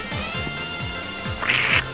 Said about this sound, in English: why the hell does it sound like a drugged out duck?